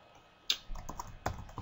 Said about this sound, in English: So we're gonna type in message box.